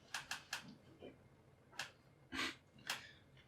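Keys on a large Mac computer keyboard clack in a few quick bursts and scattered single taps, close and fairly loud, with a brief murmur of voices between them in a casual studio setting.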